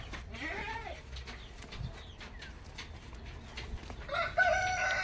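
Dekalb Brown laying hens cluck and call in a farm pen, with several rising and falling bird calls at moderate distance over a constant background hum, and no talking.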